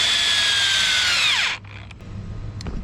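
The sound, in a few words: power drill driving screws into wooden boards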